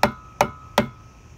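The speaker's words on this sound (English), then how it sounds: "And take our rubber mallet, keep that nice and tight up against there." Rubber mallet tapping a tight-fitting skeg guard onto a boat's outboard skeg: three evenly spaced, sharp, close knocks about 0.4 seconds apart, with no talk.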